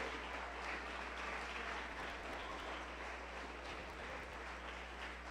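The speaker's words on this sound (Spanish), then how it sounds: "Dele esa ofrenda de aplauso al Dios del cielo." A church congregation gives an offering of applause, a broad continuous roar of clapping heard from a distance with a low hum beneath it, fairly faint and unbroken throughout.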